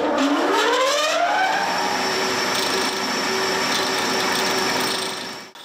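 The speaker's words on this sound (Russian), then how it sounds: "За этим шлифовальным станком Владимир Решетило снимает фаску" A grinding machine chamfers oilfield equipment parts in a workshop, a steady whining mechanical drone with a rising pitch sweep at the start, continuous and fairly close, fading out abruptly at the end.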